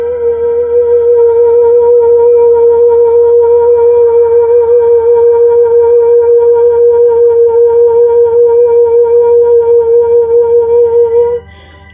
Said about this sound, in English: I'm just going to bring in some tones here.